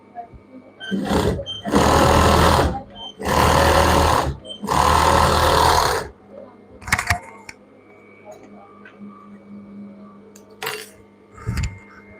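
A sewing machine stitches children's pant-style pyjamas in three loud, sustained bursts separated by short pauses, followed by brief clicks and handling noises.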